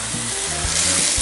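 Bacon sizzles steadily in a dutch oven, a loud, continuous crackling hiss with a few faint scraping knocks underneath.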